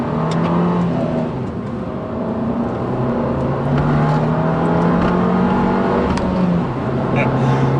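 Small Abarth 595 Esseesse hatchback engine (2019) revving and accelerating with rising pitch on a UK road, heard from inside, with a voice talking over it.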